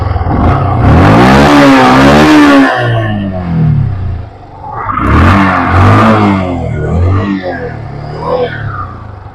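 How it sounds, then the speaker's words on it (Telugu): A 2014 Yamaha FZ BS3 motorcycle in neat, unrepaired condition revs up twice in strong, close bursts that rise and fall, followed by lighter blips as the engine settles. "సో చూశారు కదా గైస్, ఇంజన్ సౌండ్ మాత్రం ఫుల్ నీట్ ఉన్నది"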